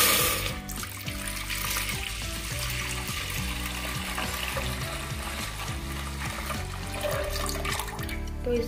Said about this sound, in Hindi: तो दूध को मैं इसमें डालती हूँ।